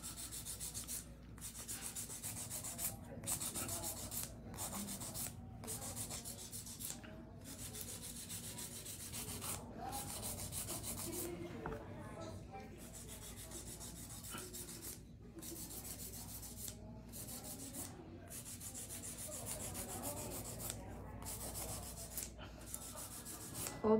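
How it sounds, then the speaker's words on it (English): Hand filing of acrylic nails, stiletto and long shapes, gives a steady scratchy rasp in repeated strokes with brief pauses, close and moderately loud, with no talking. "Old school filing is the best."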